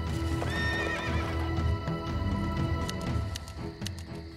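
Horses in the Empire Earth strategy game whinny with a rising neigh early on, backed by a steady rattle of clip-clopping hooves and faint game ambience; no one speaks.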